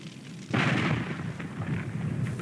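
Cannon fire from Civil War ironclad warships, heard as a muffled boom about half a second in followed by a rumbling roll of distant artillery, moderately loud and without talk.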